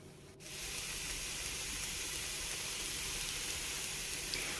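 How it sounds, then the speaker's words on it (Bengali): Taro leaves frying in oil in a pan as their released water cooks off, a steady, close sizzling hiss that starts abruptly and holds evenly throughout. "এবার সুন্দরভাবে আমি ভেজে নেব।"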